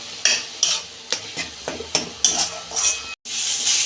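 Beans and eggplant paste with a little sugar being stirred and dried in a pan: a rhythmic run of scraping spatula strokes with light sizzling, close by, ending in a brief break and a louder hissing burst.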